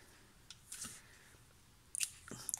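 A few soft, quiet snips of scissors cutting paper, in brief separate bursts with near-silence between.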